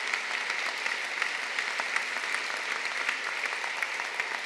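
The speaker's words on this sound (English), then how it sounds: "a warm round of applause for these first insights of the Dalai Lama" Warm applause from an audience at a talk on universal values and education with the Dalai Lama, a dense, steady wash of many hands clapping throughout, fairly distant and even in level.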